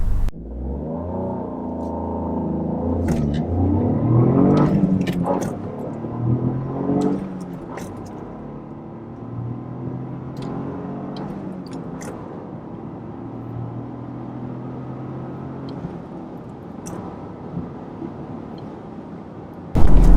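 A 2023 Toyota GR Corolla in track mode pulls hard from inside the cabin, its engine note rising through the gears in a loud surge that eases into a steadier drone, with brief clicks and bumps along the way.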